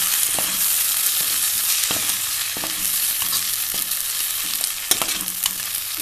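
A spoon scrapes and stirs a mint rice mixture frying in oil in a pan, giving a steady close sizzle punctuated by irregular clinks and scrapes against the metal.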